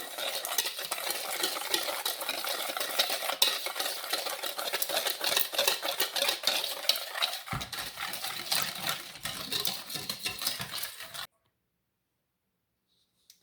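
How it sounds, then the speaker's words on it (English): A spoon stirs a dry mix of sugar and cornstarch in a bowl for custard crème pâtissière, a steady close scraping and clinking rhythm running continuously for about eleven seconds before stopping abruptly into silence. "I'm going to mix this in really well"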